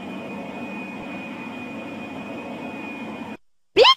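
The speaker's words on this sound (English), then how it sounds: "The aircraft will be moving shortly." A cartoon airliner engine drones in a steady, loud whine with a high tone, alone for a few seconds before it cuts out and a short squiggly cartoon sound follows.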